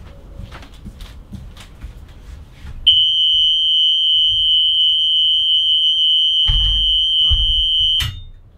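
A loud, continuous high-pitched school bus rear door alarm sounds for several seconds, with a few thumps and clunks underneath before it cuts off.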